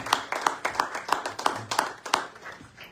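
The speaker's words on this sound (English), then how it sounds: "So let's give them a round of applause, Miss Casey Doucette and the Lady Bulldogs." An audience claps for a girls' volleyball team at a parish volleyball kick-off show, a sparse group applause with separate distinct claps, fairly close, then fading out.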